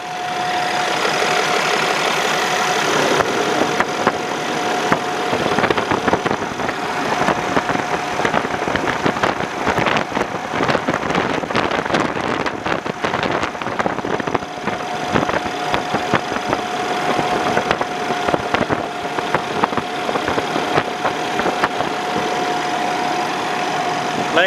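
Steady, loud diesel idle from a red 2015 Kenworth T880 day cab truck with an automatic transmission and 570,000 miles, holding a constant rumble and whine with a brief rise in the middle and no voices.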